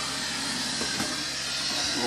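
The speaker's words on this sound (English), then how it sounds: "That noise you can hear is a boat being sandblasted." A boat being sandblasted nearby beside a narrowboat, a constant harsh hiss with a steady low rumble underneath, fairly loud and unbroken throughout.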